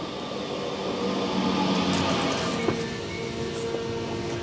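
A train at Sandbach station, a Northern-managed stop, gives a steady, fairly loud rail rumble with broadband clatter throughout and a couple of brief knocks near the end, with no talking.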